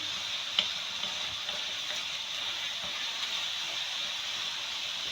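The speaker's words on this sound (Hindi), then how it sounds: "थोड़ा सा लहसुन अदरक डाल के भूनूंगी।" Minced meat frying in a pan with garlic ginger paste, a steady, fairly loud sizzle and hiss with occasional faint clicks of stirring, heard alone without talk.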